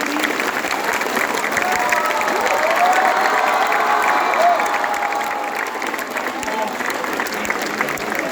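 A hall of schoolchildren at a Children's Day event bursts into loud, sustained clapping for their teachers, with cheers and shouts rising above the steady applause.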